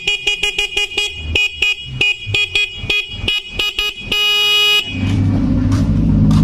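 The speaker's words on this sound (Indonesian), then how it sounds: "Sekarang kita coba kontak, tekan double starter, double starter klakson." A Honda Jupiter Z motorcycle horn, its speaker faulty, sounds in a run of short, loud, rhythmic toots, then one longer blast, followed by steady engine or electrical hum.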